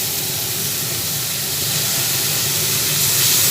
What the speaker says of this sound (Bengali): এই মশলার মধ্যে অল্প করে জল দিলাম